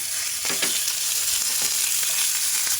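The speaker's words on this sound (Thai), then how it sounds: "น้ำมันร้อนแล้วใส่หมูสับลงไปเลยค่ะ" Minced meat sizzles and crackles in hot oil, a steady loud hiss with occasional sharper pops as it is stirred.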